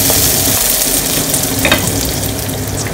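White onions and vegetables sizzle loudly in a pan for a beef stir fry, a continuous close frying hiss with faint stirring scrapes and no voices.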